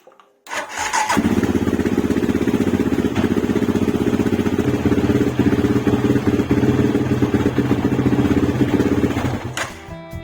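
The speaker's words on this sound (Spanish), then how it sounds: "arrancar hasta que el motor tenga unos 60 grados" A Yamaha Raptor 700 quad's engine cranks and catches, then runs at a loud, steady, throbbing idle to warm up for an oil and filter change, close by and alone before cutting off.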